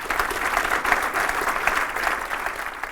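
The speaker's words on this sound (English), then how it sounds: "Give him a big round of applause" An audience in a seminar room applauds a speaker with dense, steady clapping at close range that holds for the whole stretch, without speech over it.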